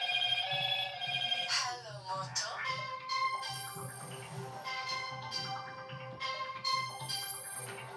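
A telephone rings indoors during an online class, its bright repeating electronic tones sounding steadily over roughly eight seconds beneath voices talking.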